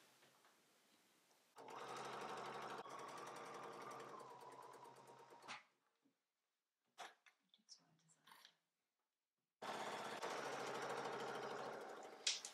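Sewing machine stitching cork fabric lengthwise with a 1 cm seam allowance and 2.5 mm stitch length, two sustained runs of fast, even motor hum and needle rattle separated by a quiet pause with a few handling clicks.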